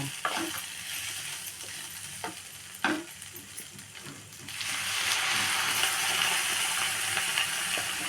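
Ivy gourd curry (thondekai palya) sizzles in a pan as it is stirred, with scraping strokes early on; the frying hiss swells louder and steadier midway once a little water is added, and carries on without any voices.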